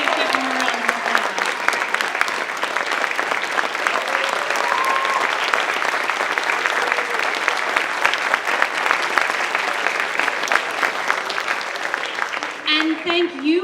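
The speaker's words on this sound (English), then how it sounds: "Please give them a round of applause." A school audience at a percussion ensemble concert claps in a long, sustained round of applause, dense and even throughout, with faint voices mixed in near the end.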